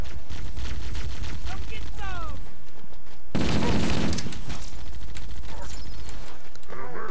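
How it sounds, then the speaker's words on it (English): Loud bursts of gunfire and explosions in Halo: Combat Evolved, dense and chaotic, with a big blast midway and a voice talking over parts of it. "that was a lot of explosions"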